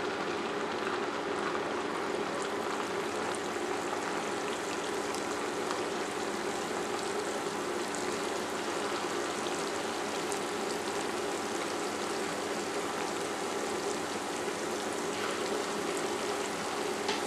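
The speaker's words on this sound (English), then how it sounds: "The oil has reached the proper temperature, so we can now place the sorullitos into the skillet" Cornmeal sorullitos fritters frying in hot oil in a skillet, a steady, even sizzle and crackle like light rain that holds constant for the whole stretch, close and without voices.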